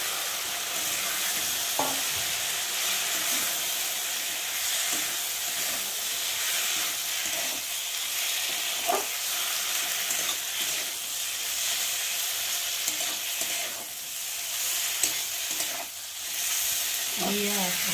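Vegetables being stir-fried in mustard oil in a pan for a bitter gourd curry, with a steady hissing sizzle and occasional clinks and scrapes of stirring close by.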